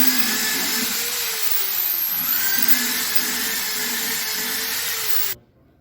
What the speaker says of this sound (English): Drill 8 mm holes at these points, 4 holes.